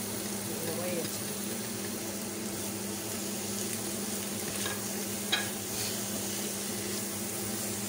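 Onion, pepper and garlic sauté in a pan for a seafood encebollado, a steady low sizzle with a faint clink of a utensil partway through.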